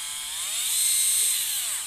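A Flipout Speed Hex 8-volt cordless screwdriver with a variable speed trigger and a top speed of 175 RPM runs alone, close by, as a thin, high motor whine that swells slightly in pitch and loudness and then eases off.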